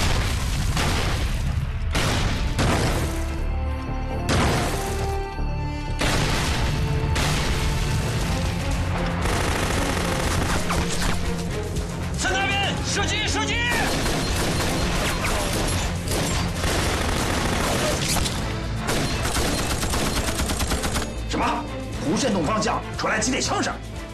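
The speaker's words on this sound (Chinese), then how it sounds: "几点枪声" Dense battle din from a Chinese kung fu war film set against Japanese troops: repeated gunfire bursts and booming explosions near a guarded cave entrance, loud and nearly continuous across the span, with shouting voices mixed in.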